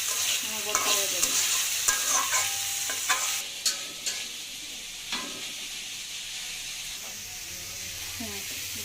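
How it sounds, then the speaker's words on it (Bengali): Onion, garlic and green chilies frying in a pan: a gentle continuous sizzle broken by frequent sharp scrapes and taps of a spatula being stirred, close and fairly quiet. "পেঁয়াজ রসুন কাঁচামরিচ একটু ভালোভাবে ভেজে"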